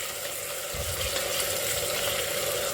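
Tomatoes with salt sautéing in a pan for a Chettinad raw jackfruit fry, giving a steady, moderate sizzle and hiss with a soft stir or bump partway through, no voices.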